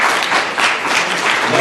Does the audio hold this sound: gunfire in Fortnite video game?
no